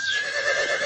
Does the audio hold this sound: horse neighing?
yes